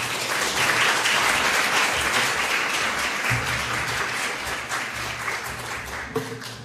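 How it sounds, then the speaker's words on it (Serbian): A lecture audience applauds a guest speaker before a talk on stem cells and cloning, with steady dense clapping filling the room throughout and a few louder individual claps near the end. "mi ćemo ga pozdraviti s jednim ugodnim aplauzom."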